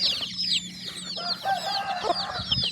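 Village chickens cluck and chatter nearby in overlapping bursts at evening feeding on unhusked rice, with a rooster-like call mixed in and a faint low hum underneath.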